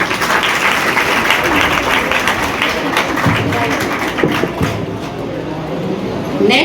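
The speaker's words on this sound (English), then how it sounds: "Have a clapping for him." Students clap at a school quiz contest in Haryana, a steady dense patter of applause filling the room for several seconds, fairly loud and close, with a few brief voices mixed in.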